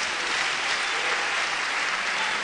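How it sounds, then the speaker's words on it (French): A church congregation applauds together, a dense, steady wash of many hands clapping at a constant level throughout, with no voices standing out. "Acclamez votre guérison."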